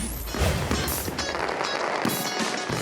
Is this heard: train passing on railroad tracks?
no